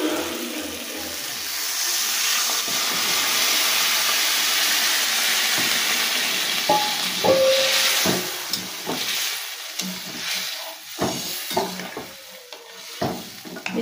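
Water poured into spiced potato and onion masala frying in a pan for a fish curry sets off a loud, hissing sizzle that slowly settles into quieter bubbling and stirring.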